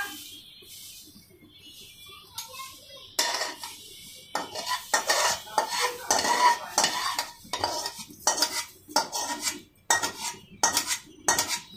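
Chicken being mixed into cooked pulao in a pot, heard as a run of rhythmic scraping and clattering spoon strokes against metal, close and fairly loud after a quiet start, with a faint background sizzle.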